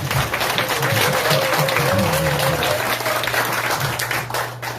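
A crowd at a public gathering breaks into sustained applause, dense clapping filling the space for several seconds with a voice calling out over it before it tapers.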